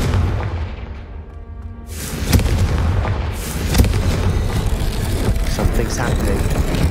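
A Confringo fire spell detonates in Hogwarts Legacy, a sudden loud blast with a booming burst and lingering rumble, followed by a second crackling impact amid game sounds and noise.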